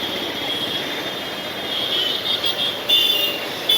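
A metro train in a Kolkata station rumbles steadily with a high metallic whine and squealing wheels, a continuous loud ride-through noise that swells slightly near the end.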